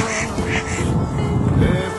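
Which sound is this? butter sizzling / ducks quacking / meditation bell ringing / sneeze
ducks quacking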